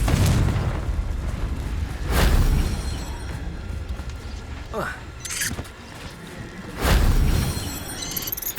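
Confringo spells blast in Hogwarts Legacy combat, heavy booming explosions landing at intervals with rumbling tails, mixed with whooshing magic and clashing effects, loud and close.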